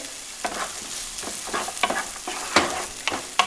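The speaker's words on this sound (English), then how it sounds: "we're going to go ahead and saute our onion for a little bit" Onion sautéing in a pan, a steady bright sizzle broken by repeated stirring scrapes at an irregular pace, close and fairly loud with no voices.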